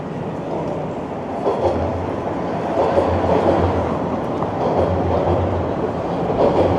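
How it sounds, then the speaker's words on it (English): A Toronto subway train passes on Yonge Street, a loud steady rumble with rhythmic clickety-clack from the wheels that swells and holds, heard from nearby with no talking. "Here's the subway."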